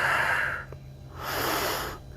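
A person breathes heavily during a yoga mobility stretch, drawing one long noisy breath, pausing, then letting out another long, rough breath close to the microphone, with no talking.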